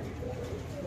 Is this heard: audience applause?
no